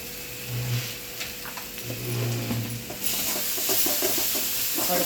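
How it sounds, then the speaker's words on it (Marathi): Masala frying in oil in a pan for a fresh cashew curry, a continuous close sizzle broken by repeated scraping stirs that grow busier toward the end. "मस्त अशी मसाला परतायला लागला तेलामध्ये चांगला परतू परतू घ्यायचा"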